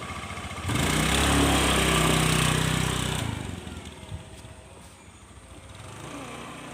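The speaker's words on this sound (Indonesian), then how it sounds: "Di gas full motor itu masih belum jalan" Honda Scoopy scooter with sluggish, misfiring pickup revved at full throttle, a buzzy high engine whine that surges loudly for a few seconds, then drops back to a quieter idle and rises slightly again.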